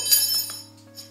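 A spoon set down with a brief bright clink against a glass or cup, a single short ring that fades quickly.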